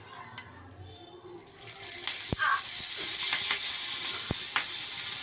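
Stuffed chillies frying in oil in a pan, a steady broadband sizzle that builds and then holds loud and even, with a few sharp clicks of utensils near the start and middle.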